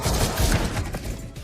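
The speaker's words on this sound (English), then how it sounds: "Upstairs, Simon tries to escort Yuan Song away, changing routes when gunfire breaks out" Gunfire breaks out in a film action scene inside a guarded building, heard as a dense, loud burst of overlapping shots and booms that runs without pause.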